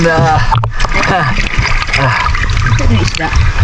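Water pours and splashes as fish traps are loaded aboard a boat. The sloshing is close and continuous, and people talk loudly over it throughout.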